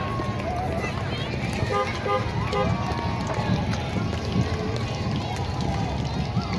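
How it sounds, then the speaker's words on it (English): Car horns toot in short bursts at a fifth grade honk-out outside a school, mixed with traffic noise, people talking and a busy outdoor crowd. "Honk again."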